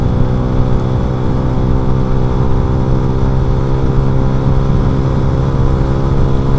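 Honda Revo FI motorcycle engine with a racing exhaust, held at about half throttle, a loud, steady, close droning roar that keeps an even pitch for the whole stretch.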